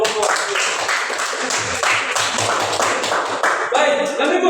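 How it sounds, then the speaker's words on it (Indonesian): A group of people clapping in applause for a student group presenting at a school session, dense steady clapping that carries on throughout with some voices mixed in. "Sekali lagi kita beri aplaus kepada kelompok"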